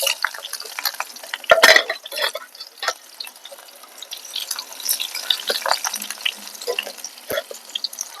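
Onions dropped into hot oil in a pan with tempering seeds, cooking for a sweet potato fry: a steady close sizzle with crackling and a louder splatter burst early on, no talk.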